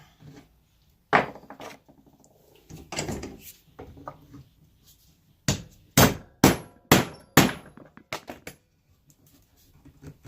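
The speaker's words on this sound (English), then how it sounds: "Sometimes that'll make the nail break, so we will punch it through a little bit more." A hammer punching a nail through a wooden chair during restoration, with scattered sharp knocks followed by a quick run of four or five loud, close strikes, then a few lighter taps.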